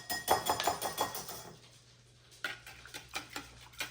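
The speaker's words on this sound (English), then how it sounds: "So now you have to mix up the wet ingredients." Wet ingredients for a strawberry mochi waffle batter being mixed in a bowl, quick rhythmic whisking clicks at first, a brief lull, then slower scraping taps, close and moderately quiet.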